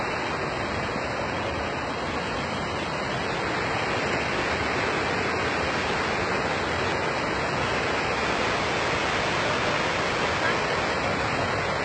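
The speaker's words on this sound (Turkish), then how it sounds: "Yahyalı Şelalesi'ndeyim." Yahyalı waterfall in Kayseri, Turkey, pours in a steady, loud broadband roar of rushing water that continues unbroken from start to finish, with no pauses or distinct events.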